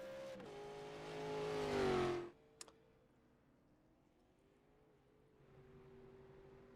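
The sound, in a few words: race cars driving on pit road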